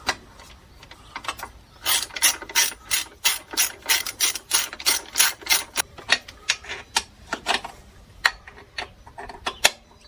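A ratchet tightens a screw on the EGR valve of a Renault Scénic 2 1.9 dCi 130. Close, crisp clicks come in regular rapid bursts of strokes, thinning out to scattered single clicks toward the end.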